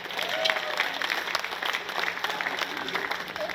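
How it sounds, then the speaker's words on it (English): An audience at a Bigfoot and paranormal festival in Oregon applauds, with dense, continuous clapping that swells and holds at moderate loudness. "Yes, now you can applaud."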